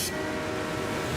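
A train passing a railroad crossing, a continuous loud broadband rumble and rushing roar of rail cars going by at close range for the whole moment.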